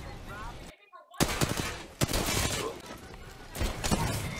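Pistol gunfire in a multiplayer shooter video game, sharp loud cracks in irregular bursts after a brief silence, with players' voices mixed in.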